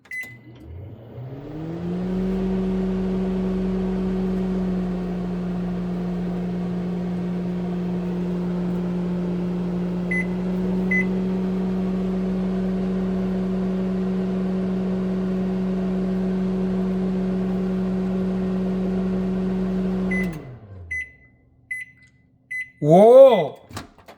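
A Panasonic NN-SD664W inverter microwave oven running at 50% power hums steadily with a droning, slightly rising tone for about eighteen seconds, with brief beeps at the start and end and a short chirp afterward.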